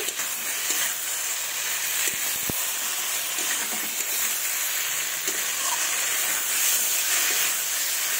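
Fried potatoes sauté in a duck egg curry, giving a steady loud hiss and sizzle with a few soft clinks of stirring, close up and without talk.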